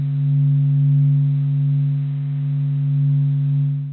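A sonified reconstruction of the sun: a steady, loud low drone made of a few sustained pure tones, slowly swelling and fading in volume with no other sounds.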